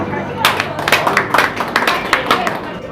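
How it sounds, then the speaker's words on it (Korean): Applause for a company director leaving the firm, a crowd of colleagues clapping in a steady patter of overlapping claps with a few louder bursts, fairly close and lively. "박수 한 번"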